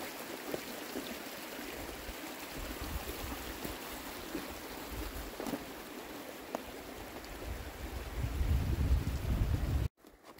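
Creek water flows steadily outdoors, a broad continuous rushing wash with small splashy accents, growing louder and fuller toward the end before cutting off abruptly.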